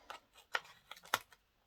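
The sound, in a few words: scissors cutting paper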